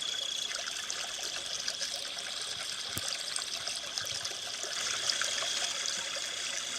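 Chinquapin Run flowing through a natural riverbed lined with trees, a steady faint trickle and burble of water with no voices.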